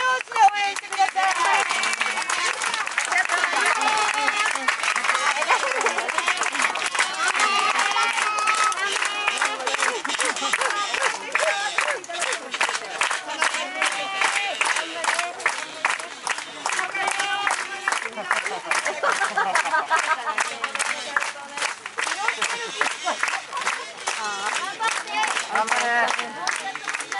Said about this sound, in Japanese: 皆さん、手拍子で応援してください。